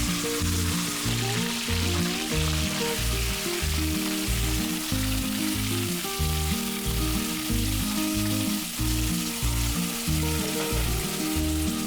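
Boneless medium-cut mutton pieces fry in ghee (clarified butter) for a South Indian mutton ghee roast, giving a steady, loud sizzle that runs without a break and carries a low, even hum underneath.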